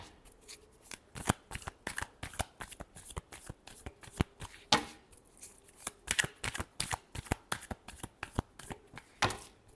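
A deck of tarot cards is shuffled up close in rapid, crisp riffling bursts with short pauses, quiet and alone.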